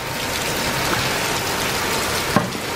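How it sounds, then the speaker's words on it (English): Steady outdoor rain falling in wet, windy weather near a table of flowers, a dense even hiss with a brief small knock near the end and no voices. "But yeah, you guys, it is raining."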